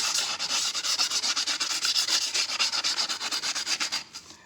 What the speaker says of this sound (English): And sand it. And you can see how it's scuffing it up.